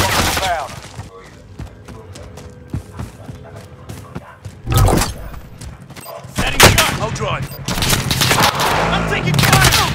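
Gunfire in the video game Call of Duty: Modern Warfare Warzone during a squad match, with loud bursts and scattered shots amid other game effects and some voices.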